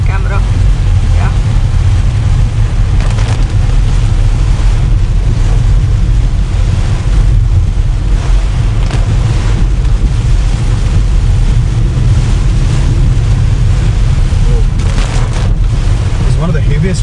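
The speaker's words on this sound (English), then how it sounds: "It's one of the heaviest rainfall I've experienced." Heavy rain pours down on a car during a rainy-season drive from Goa to Bangalore, a loud, constant rushing wash over deep road and engine rumble, with people talking inside the car.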